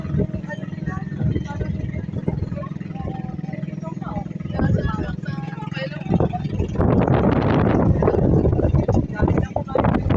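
Wind buffets a microphone in gusts by the sea at Calatagan, Batangas, a broad rushing roar that swells and strengthens toward the end, with people talking underneath.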